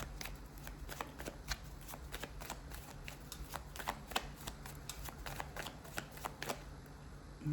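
Tarot cards are shuffled steadily by hand, a rapid run of crisp riffling clicks and flutters up close, continuing without pause across the whole stretch.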